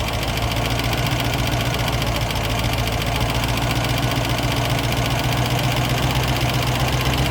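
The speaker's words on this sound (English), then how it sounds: "The idle speed's boosted up now" A 1972 Range Rover engine idles at a raised speed during carburettor adjustment, a loud, close, continuous rumble with a steady knocking pulse and no talk over it.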